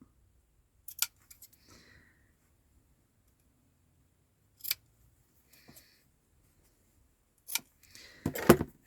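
Scissors cut through fabric for a patchwork project, making a few sharp, crisp snips spaced several seconds apart, close up and otherwise quiet, with a quicker cluster of snips at the end.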